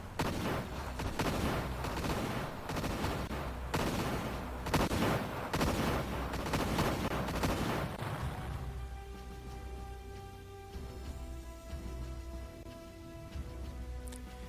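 Tank battle gunfire in the video game Imperium Galactica, a dense run of rapid, loud shots and explosive bursts that thins out and gives way to a sustained droning tone near the end, with no talk.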